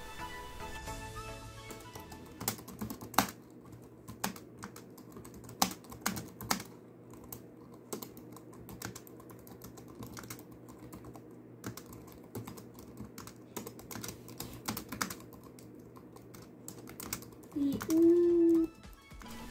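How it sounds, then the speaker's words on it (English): Quiet, irregular tapping of Lenovo ThinkPad laptop keys, steady typing with scattered louder keystrokes and a brief tonal sound near the end. "Here is how this keyboard sounds."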